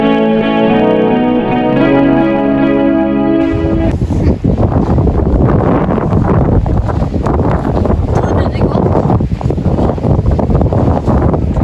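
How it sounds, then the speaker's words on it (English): Wind blows loudly into the microphone outdoors, a dense, rumbling buffet that continues throughout after a short tonal, music-like opening. "Here seems to be windy. You can hear the sounds."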